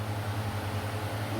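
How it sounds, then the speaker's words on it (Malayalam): Electric mixer grinder blending black grape and mint juice, giving a steady, fairly quiet motor drone that hums evenly without pause. "മിക്സിയിലിട്ടൊന്ന് അടി, നല്ല ഫൈനായിട്ട് അടിക്കുക,"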